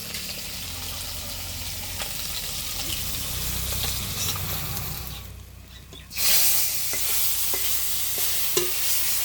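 Tilapia fish frying in oil in a pan in a home kitchen, a steady close sizzle and hiss that swells sharply louder partway through, with faint stirring clicks.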